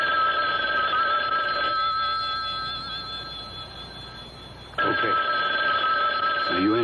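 An old telephone bell rings loudly in long electric trills, pausing briefly in the middle before ringing again, with voices faintly underneath.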